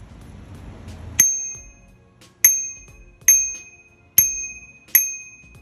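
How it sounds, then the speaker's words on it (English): The bell on a Velotric Nomad 1 electric bike rings five times in crisp, bright, close strikes, each ring decaying briefly before the next, with no talk. "And this is how the bell sounds."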